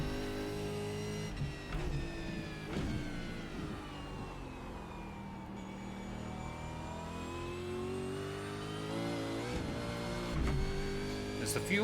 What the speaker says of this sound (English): Sounds so good as well when you nail the downshift right onto the red line.